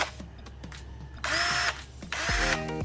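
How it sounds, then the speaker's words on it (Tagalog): An INCO 20V cordless impact drill spins in drilling mode with two loud bursts of whining motor, each lasting about half a second, separated by a brief pause. Faint background noise sits beneath. "So, that's the drilling motion."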